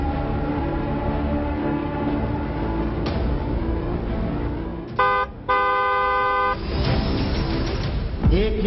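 A vehicle horn blares in two bursts of about a second over a steady traffic rumble, with the second burst longer than the first, and other road noise and faint voices around it.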